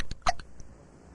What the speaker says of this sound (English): This is the worst case of hiccups we've ever treated.